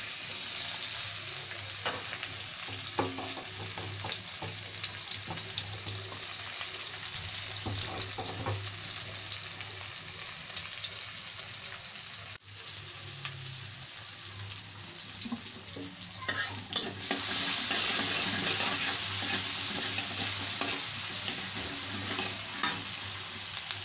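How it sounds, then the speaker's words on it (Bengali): Onion fries in hot oil left over from frying rohu fish, a steady, soft sizzle with occasional scraping as it is stirred, growing a little livelier partway through. "এখন গরম তেলটার মধ্যে আমি পেঁয়াজটা দিয়ে দেব।"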